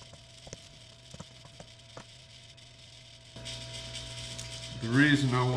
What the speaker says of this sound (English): It's a pump for the septic system.